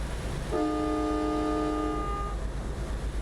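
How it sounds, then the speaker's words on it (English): Two truck horns in American Truck Simulator blare together like a train horn, one loud sustained chord lasting nearly two seconds over the low engine rumble. "Actually, it sounds more like a train horn, doesn't it, when you do the 2 together?"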